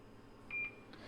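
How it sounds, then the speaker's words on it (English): A Coats 1600 wheel balancer's sonar gives a short electronic beep, with a fainter repeat just after, over a low steady hum in a quiet shop. "how we check the sonar is we put a new reading in, let it beep."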